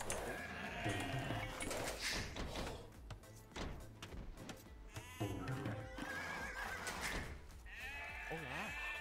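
Sheep in a strategy game bleat again and again, several wavering calls spread across the span, some loud and close, with a voice faintly mixed in.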